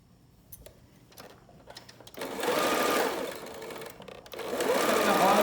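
A sewing machine stitches elastic onto a fabric face mask in two bursts of rapid mechanical whirring, with short pauses and faint handling before the first run.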